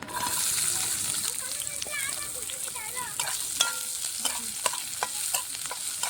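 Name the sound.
chopped onions frying in hot mustard oil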